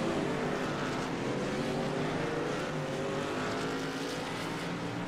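An Xfinity Series race car at Kentucky rejoins the track after a quick repair, its engine a steady, loud buzzing drone with a slight pitch rise, heard continuously without voices.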